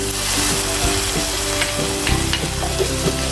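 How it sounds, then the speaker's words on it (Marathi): Ginger water is poured into a pan of vegetables and sauce for homemade Chinese bhel, and it hisses and sizzles steadily with faint stirring clinks. The sound is close and continuous throughout, with no voices. "जिंजर पाणी तयार केलं आहे तर ते मी ह्यामध्ये घालते"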